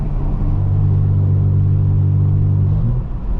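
A straight-piped BMW M4 F82 exhaust roars loud and steady inside a tunnel, a deep sustained droning rumble with a slight pitch rise toward the end, close and dominant with no talking.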